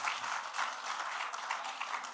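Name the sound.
audience applause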